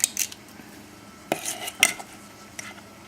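A size 18 portion scoop scooping chicken and rice soup with avocado and dropping it: a few sharp metallic clinks and knocks spaced apart over quiet background, with no talk.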